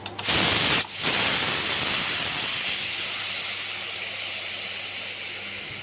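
A pressure cooker with rice inside releases a loud, steady steam hiss close by. It starts after a brief clatter and gap, then slowly eases off over several seconds.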